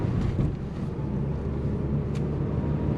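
A car engine heard from inside while driving, a steady low rumble with road and wind noise and no clear changes in pitch.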